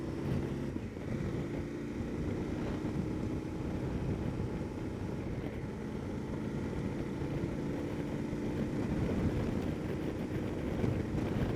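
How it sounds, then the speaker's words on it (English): Wind roars steadily over a KTM 1290 Adventure S motorcycle while riding, a dense, constant rumble that blends with engine drone and stays at an even level throughout. "oof, wow. The wind again."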